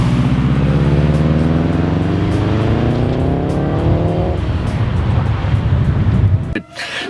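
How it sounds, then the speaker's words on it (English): A Subaru with a full 3-inch turbo-back exhaust rumbles loudly and up close, its deep engine tone climbing steadily in pitch under acceleration before dropping off abruptly near the end. "It runs a full 3-inch turbo back exhaust, and it makes awesome Subaru rumbles."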